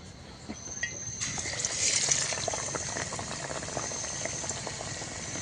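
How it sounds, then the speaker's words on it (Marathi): Slices of bitter gourd coated in besan batter bubble and crackle in hot oil as they fry into fritters, a close, steady busy sizzle with fine popping that swells briefly early on, no speech. "अशा पद्धतीने कारलं छान बुडलं पाहिजे तेलामध्ये घालून घेऊया"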